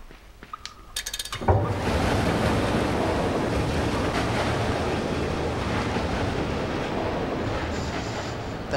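Rushing water floods in with a loud, steady roar in the game Limbo, following a few short mechanical clicks and a thud, and the churning continues unbroken to the end.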